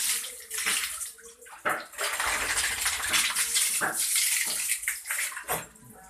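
Tap water runs during rinsing, a close splashing stream broken by knocks and clinks of items being handled, loud and continuous with short dips.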